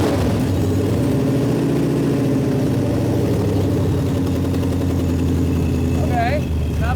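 A Ford Cobra engine fresh from an oil change, with a K&N filter fitted, runs steadily at a loud, rough idle with a dense, constant mechanical drone throughout. A brief lift in revs comes near the end.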